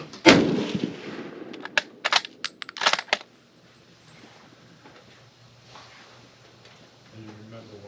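Czech VZ-24 rifle firing 8mm Mauser rounds gives one loud, close, sharp report, followed by several crisp metallic clicks and clatters, then quieter room sound with faint talk.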